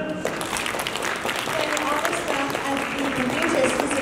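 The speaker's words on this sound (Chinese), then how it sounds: "让我们再次把掌声献给他们" An audience applauds at a Chinese New Year celebration at a Confucius Institute, a sustained burst of many hands clapping that fills the hall while a voice speaks over it.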